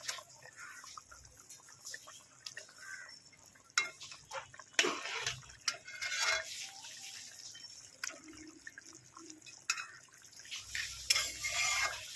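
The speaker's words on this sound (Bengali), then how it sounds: "জলটা ফুটবে, মাছের ঝোলটা ফুটে উঠেছে।" Bhola fish curry simmering in a pot on the stove, sounding as soft, irregular bubbling and liquid clicks with occasional clinks, fairly close, with no talking.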